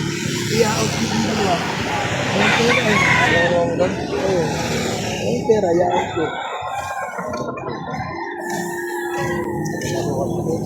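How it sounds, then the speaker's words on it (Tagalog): Chickens at a busy livestock market in Victoria, Laguna, with rooster crowing and clucking amid steady crowd chatter and people talking nearby throughout. "Ayan, dalawang manok."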